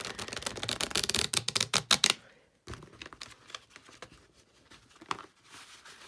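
Rapid crisp riffling of tarot cards being shuffled, a burst of dense flicking, a short pause, then lighter scattered card snaps close by.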